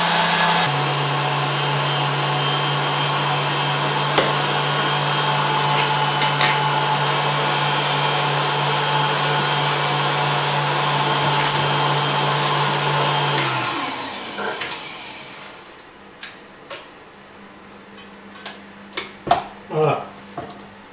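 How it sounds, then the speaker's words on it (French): An electric mixer whips egg whites at high speed with a loud, steady motor whine that runs unbroken before winding down and stopping, followed by a few sharp clinks and knocks. "on peut mettre le batteur en haut"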